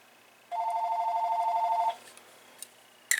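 A phone rings once with a single sustained trilling electronic burst lasting over a second, then falls quiet apart from a few faint clicks.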